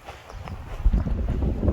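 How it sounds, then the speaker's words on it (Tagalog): Gusty wind buffets the microphone outdoors in a park, low rumbling bursts that swell and fall, close and fairly loud, with no voices. "Pero medyo kusog-kusog po ng hangin."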